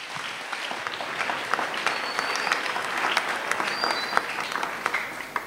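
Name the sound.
audience cheering and applauding for the king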